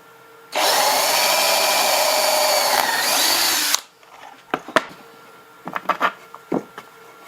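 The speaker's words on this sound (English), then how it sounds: "This is a 3/16 inch bit that I'm going to use for this hole." Power drill with a 3/16 inch bit boring a hole for a stove board, a loud steady whine lasting about three seconds and then stopping, followed by scattered clunks and handling knocks.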